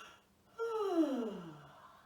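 A child-yoga instructor gives one long, drawn-out yawn that slides downward in pitch and fades over about a second and a half, close and clear against quiet.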